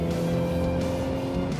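A 2021 Honda Civic Type R's turbocharged four-cylinder engine pulls hard in third gear out of a racetrack corner, giving a steady, close, loud raspy drone with a slight rise in pitch.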